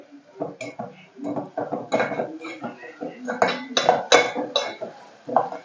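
A spoon stirs tomato curry with salt in a metal pan at home, giving repeated close clinks and scrapes in an uneven rhythm, with some voice faintly mixed in.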